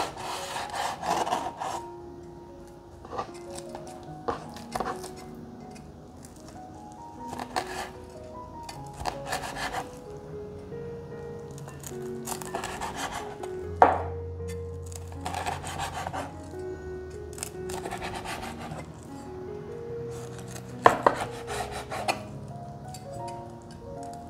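A knife slices food on a wooden cutting board, the first four strokes leaving it attached and the fifth cutting through. Several sharp, close chopping and scraping strokes come in irregular bursts over a soft tonal background.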